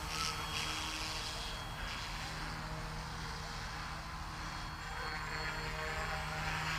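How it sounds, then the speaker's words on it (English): An Eachine E190S RC FPV helicopter in flight, its rotor and motor giving a steady whirring drone with a constant hum, sustained and even throughout. "Even sounds like a helicopter."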